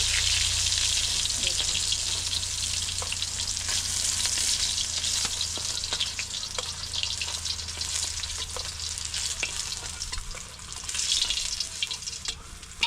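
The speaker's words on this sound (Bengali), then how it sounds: "বন্ধুরা আমার মাছটা মনে হচ্ছে ভাজা কমপ্লিট হয়ে গেছে" Fish frying in hot oil in a wok makes a loud, dense, continuous sizzle with brief spatters and faint stirring clicks, without any voices, and the sizzle swells again near the end.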